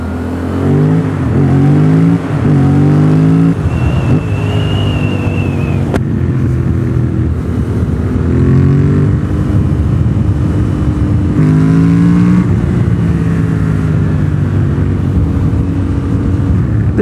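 A Yamaha FZ07 motorcycle with a full aftermarket exhaust revs and accelerates while riding, loud close engine roar with repeated rising and falling pulls and gear shifts, no talk.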